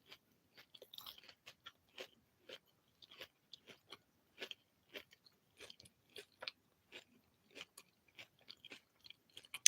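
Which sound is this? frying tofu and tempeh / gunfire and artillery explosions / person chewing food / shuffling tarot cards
person chewing food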